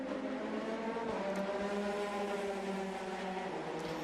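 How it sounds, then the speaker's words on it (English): Number 71 AF Corsa Ferrari race car at the 2020 Lone Star Le Mans FIA WEC endurance race, its engine a loud, steady multi-tone drone with no voices over it. "Here comes the number 71 AF Corsa Ferrari."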